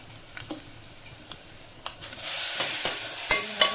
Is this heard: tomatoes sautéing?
yes